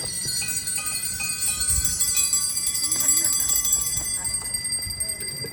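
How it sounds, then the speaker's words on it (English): A bell is rung, its clear sustained tones and overtones ringing out and lingering across the clip over a low background rumble. "so I ring a bell."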